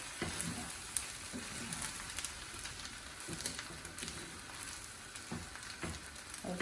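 Garlic butter lobster with rice and spring onions being mixed in a hot pan: a soft, steady sizzle with scattered light clicks and scrapes of stirring, fairly quiet and without speech.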